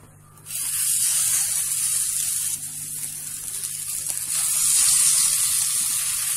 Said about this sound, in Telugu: చూడండి ఇలా వేసుకొని మీడియం ఫ్లేమ్ లో పెట్టి కాల్చుకోవాలి.